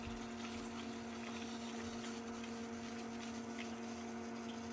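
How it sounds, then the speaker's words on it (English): A sump pump draws water out of a hole with a steady electric hum and a soft rushing flow, quiet and unbroken, with no one talking. "I'm going to plug in this sump pump and see if it works."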